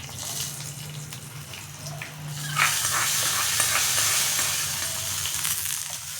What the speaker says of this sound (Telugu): ఈ తాలింపు అన్నది ఇందులో వేసేద్దాం